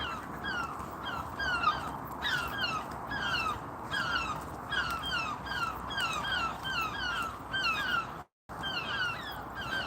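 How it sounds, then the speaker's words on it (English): Seagulls call repeatedly outdoors during a walk, their sharp, rhythmic cries coming in steady bursts over a constant windy background, moderately close. "seagulls are a right noisy one"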